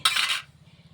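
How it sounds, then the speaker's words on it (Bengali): A metal karai (wok) lands on a kitchen stove with a sharp clank and a brief rattle of metal. A faint low rhythmic sound continues afterward. "কড়াই চাপিয়ে দিয়েছি।"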